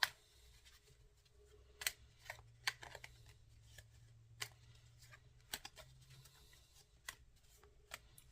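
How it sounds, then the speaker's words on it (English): Quiet, close-up card shuffling: soft riffles and crisp snaps of cards come in short, irregular bursts over a near-silent background. "Let me get them where I can shuffle them real good"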